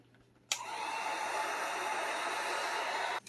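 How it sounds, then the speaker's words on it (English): A heat gun blows steadily on a Telecaster guitar body to melt binding into place, a loud, even broadband whoosh switching on abruptly and running unbroken for nearly three seconds before cutting off, with no talk. "we're going to go ahead and use the heat gun to melt that into place"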